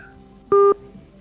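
A telephone line cutting off during a radio call-in broadcast: a single short electronic tone burst, loud and clean, about a quarter second long, against a quiet background hum.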